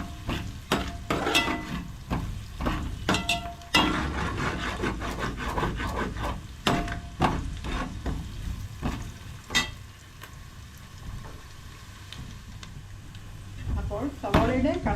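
Sliced onions sautéing in a pan for tomato masala rice, a loud close sizzle with frequent scraping and clattering of a spoon stirring, a voice speaking over the cooking.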